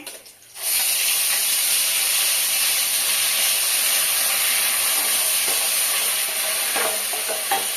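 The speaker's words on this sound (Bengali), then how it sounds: "পেঁয়াজ বাটাটা ভালোভাবে কষিয়ে নেব।" Onion paste being stirred and fried in hot oil with whole spices for a Bengali doi katla curry, a loud steady sizzle and hiss filling the scene after a quiet start, with occasional stirring scrapes.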